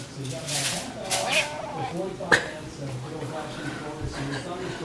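A house cat gives several meows and yowls close by, mixed in with a person talking over it indoors.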